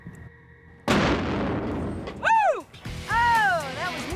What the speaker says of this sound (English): The explosion rocks the truck with a blast equivalent to almost half a stick of dynamite.